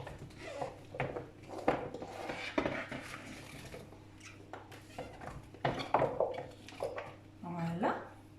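Couscous and prepared vegetables being mixed in a dish, with a utensil clinking and scraping against the container in irregular bursts, close and moderately loud, with a voice talking intermittently over it.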